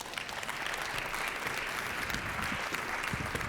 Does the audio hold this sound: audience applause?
yes